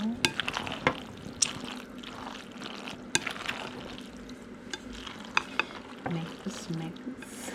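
Macaroni salad being stirred and mixed in a bowl, Filipino-style creamy recipe, with soft wet scraping and squelching strokes and a few sharp clinks of the utensil, continuous at moderate level with no talk.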